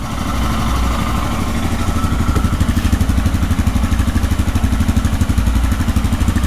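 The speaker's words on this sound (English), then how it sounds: "Engine on the right hand side." A Royal Enfield Himalayan motorcycle engine, heard from its right-hand side, idles close by, its loud, rapid pulsing beat growing more pronounced and regular as it runs.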